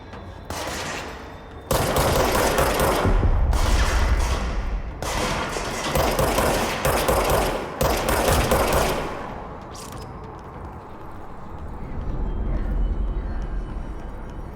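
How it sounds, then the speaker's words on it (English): Enemies in the video game Control fire on the player in repeated loud bursts of gunfire, some rapid and automatic, separated by brief pauses, with heavy thuds and a rumbling tail afterward. "Oh, they're shooting back now."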